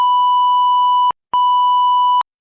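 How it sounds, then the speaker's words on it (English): Two loud, pure electronic censor beeps, the first lasting about a second and the second slightly shorter after a brief gap, with nothing else audible. "We got a beep."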